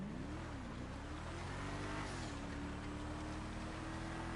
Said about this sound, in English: We're going to see how good this car is under acceleration.